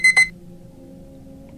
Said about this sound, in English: I need to turn that stupid alarm off first.